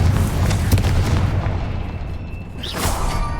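A Confringo blasting spell in Hogwarts Legacy gameplay: a heavy booming explosion with rumbling low end at the start, decaying into a hiss, then a bright whooshing burst near the end, loud and without speech.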